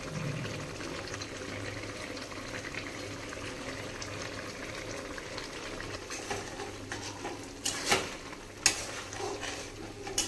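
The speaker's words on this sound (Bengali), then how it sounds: "ভালো করে মিশিয়ে নেব" Spices get stirred into a simmering potato and soybean curry with cumin, coriander and turmeric, giving a steady low bubbling and a few soft spoon scrapes near the end.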